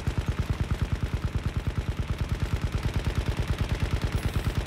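Rapid automatic gunfire from the Battlefield 1 beta on Xbox One, a fast, unbroken stream of evenly spaced shots, loud and close, with no talking.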